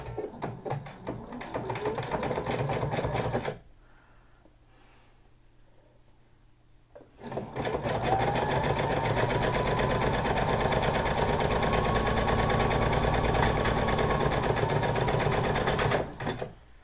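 A sewing machine stitches the side seam of a sequin hoodie from sleeve cuff to underarm: a loud, close, rapid mechanical whir runs for a few seconds, stops briefly, then resumes for a long continuous stretch.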